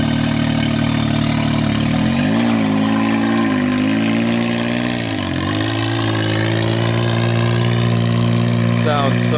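A Can-Am X3 Evo side-by-side engine fitted with a Shocker exhaust idles close and loud, a deep steady rumble with a few brief blips of revving, with no talk.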